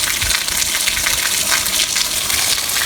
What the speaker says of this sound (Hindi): हमारी जो टैंकी है वो ब्लास्ट कर गई है और सारा पानी बाहर निकल रहा है।